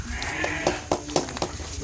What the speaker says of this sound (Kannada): ಕುರಿ